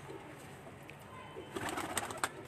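Racing pigeons on a rooftop coo softly in short bursts toward the end, faint and a little distant over steady background hiss.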